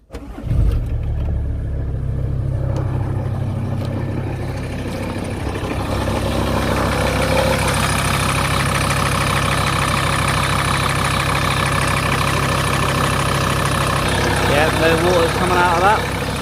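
A car engine cranks and catches after its cooling system has been bled, then settles into a loud, steady idle close by, with a slight rise in revs near the end; a person talks over it.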